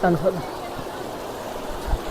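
A jungle stream runs over rocks in the Shivapuri forest of Nepal, giving a constant, moderate rushing hiss. A voice is heard briefly at the start, then the water continues alone.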